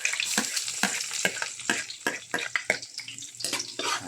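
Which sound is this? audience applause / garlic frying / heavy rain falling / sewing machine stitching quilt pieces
garlic frying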